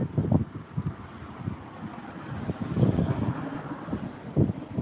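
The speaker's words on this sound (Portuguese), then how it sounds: "Tá ventando bastante," Gusty wind buffets the microphone in low, rumbling bursts that rise and fall irregularly, with no other clear sounds on top.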